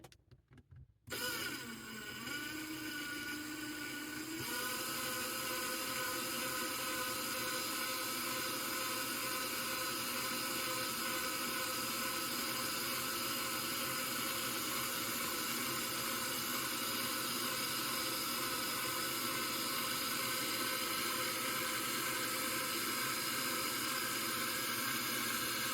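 A machine winds wire under tension around a threaded mandrel to form a torsion spring for an Umarex Notos 10-round magazine, with a steady loud mechanical whine and whirring hum that runs without a break after a brief start-up.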